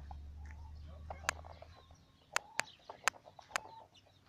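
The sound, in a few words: chickens clucking in a barn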